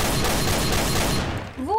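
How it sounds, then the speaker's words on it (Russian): A loud burst of rapid gunfire in Garry's Mod fills the first second, then cuts off, leaving a brief rising electronic tone at the end. "Я слышу выстрел, боже мой."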